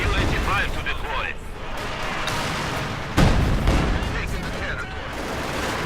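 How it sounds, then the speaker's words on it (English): Molotov cocktail bursting in Company of Heroes 2 during a 1v1 match, a sharp boom landing mid-clip amid continuous battle noise of gunfire and explosions, with a caster talking over the mix throughout. "Molotov's going off."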